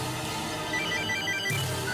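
A telephone rings with a repeating electronic ringtone, loud and steady over a background of soft music, the tone pattern shifting slightly toward the end; no one speaks.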